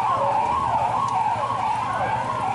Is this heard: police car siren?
yes